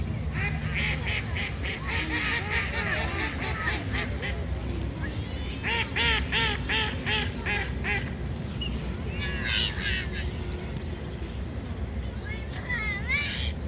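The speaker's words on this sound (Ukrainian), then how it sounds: "Качки плавають біля поплавків." Ducks quack repeatedly in rapid bursts nearby while swimming by fishing floats, with someone talking over steady outdoor background noise.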